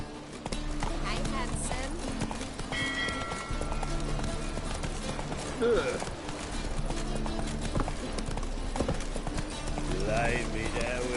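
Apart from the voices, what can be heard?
Roach the horse galloping in a video game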